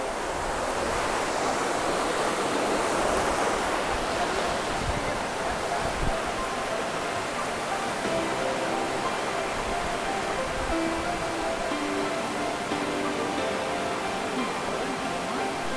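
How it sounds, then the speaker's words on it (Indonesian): Clear river water flows steadily at Leuwi Raksamala in Ciamis, a continuous close rushing wash that fills the whole stretch, with a voice speaking faintly over it. "ini dia guys, aliran sungainya di Lewi Raksamala"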